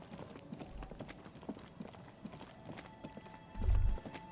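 Footsteps in the Disco Elysium video game tap out a quick, fairly regular series of hard, clip-clop-like steps under a low ambient bed, with a louder thump near the end.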